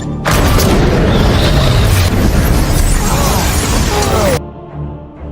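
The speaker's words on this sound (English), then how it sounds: "Joe protects the girl despite the grenade explosion." A grenade blows up in an action film scene with a loud, sustained boom and roaring debris, then cuts off abruptly into a quieter tail.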